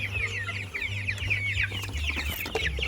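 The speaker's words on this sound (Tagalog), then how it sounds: "I'm going to feed the chickens" Chickens clucking close by before feeding, a busy overlapping chatter of short clucks and murmurs over a low steady hum.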